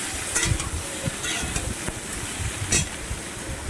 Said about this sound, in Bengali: টমেটোটা হালকা গলে যাওয়া পর্যন্ত একটু নেড়ে নিয়ে আমি সবজিগুলো দিয়ে দিলাম